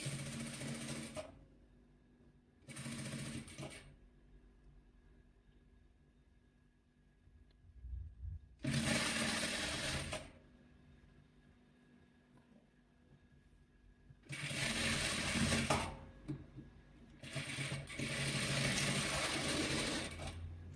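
A sewing machine stitches patchwork pieces together in several separate bursts, each running steadily for a second or two with quiet handling pauses between them; no voices.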